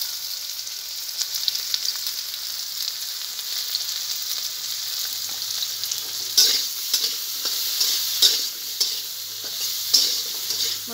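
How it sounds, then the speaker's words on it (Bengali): Potatoes fry in a pan with salt and turmeric, giving a steady close sizzle broken by repeated scraping stirs that grow louder and more frequent toward the end. "আমি একটু লবণ, একটু হলুদ দিয়ে ভালো করে ভেজে নেব।"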